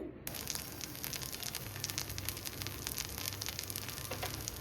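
Kambu and black urad dosa frying in oil on a hot pan, a steady close crackling sizzle with dense fine popping that runs continuously without talk.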